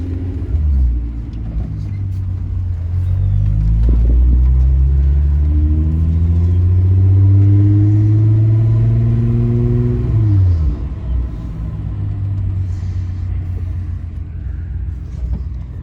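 A project car's engine idles with a deep rumble, then revs up in a long, rising pull that holds loud and close before dropping sharply back to a low idle.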